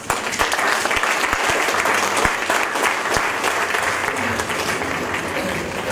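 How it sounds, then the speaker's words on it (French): An audience applauds at a public event during a visit by Prince Albert II of Monaco in Thann, Alsace, with steady, dense clapping and a few sharper individual claps that stand out. "On peut l'applaudir."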